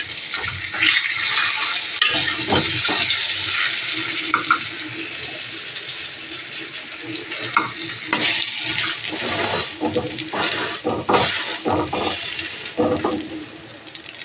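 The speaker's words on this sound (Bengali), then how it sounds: "এখন আবার দু বেগুন ভেজে নিচ্ছি" Eggplant pieces fry in a wok with a steady, loud sizzling hiss, broken by occasional clatters and stirring sounds, with no talking.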